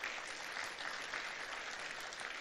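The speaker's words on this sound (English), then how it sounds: "You should give yourselves a round of applause." Gala dinner crowd of several hundred applauds in a large room, a steady, fairly faint wash of clapping heard at a distance.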